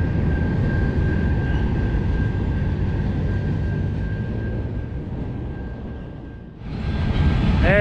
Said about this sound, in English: There's the end of the train now.